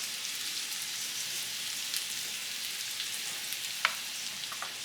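Potatoes for a ground beef and potato casserole frying in a pan, giving a soft, even, continuous sizzle with a faint crackle now and then and no voices.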